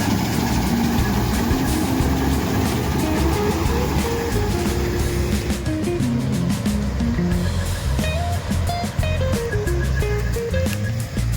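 A tractor engine runs loud and steady nearby while its trolley is emptied of wheat on a farm, a continuous deep rumbling hum with some rattling clatter on top and no pauses.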